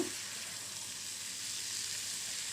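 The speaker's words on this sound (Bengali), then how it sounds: "চুলার জালটা মিডিয়ামে রেখে আমি কিন্তু পাঁচ থেকে ছয় মিনিট খুব সুন্দর করে মাংসগুলো কষিয়ে নেব" Mutton with spices fries in a pan over a medium flame, giving a faint, steady, even sizzle throughout, with no talking.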